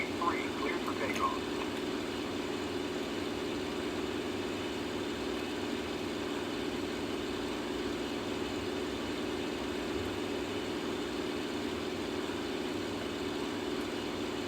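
Aircraft engine at takeoff in a flight simulator game, a steady droning hum that holds constant throughout, with a voice speaking over it.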